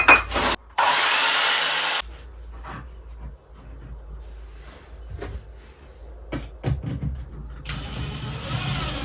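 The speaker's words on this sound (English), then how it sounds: "Got this random little strip of 12mm MDF, so I'm going to cut that in half" A strip of 12mm MDF being cut in half in a workshop, with two loud, harsh bursts of cutting separated by quieter knocks and handling noises, close by and without speech.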